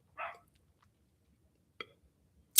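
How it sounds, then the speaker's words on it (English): A dog barks a few times at close range indoors: one short bark opens, then after a pause two more brief, sharp barks follow near the end, with no talk over them. "I don't know why my dog is barking."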